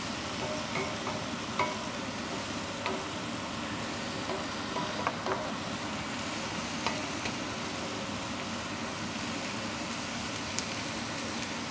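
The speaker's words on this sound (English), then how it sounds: "Oh, I love the smell of garlic cooking." Garlic cooking in a pan sizzles steadily and softly for a long stretch, with faint scattered pops and stirring clicks, close and quiet, no talk.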